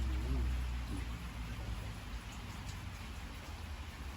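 Light rain falls steadily as a soft, even patter with a faint low rumble underneath, outdoors in rainy weather while mushrooms are washed for cooking.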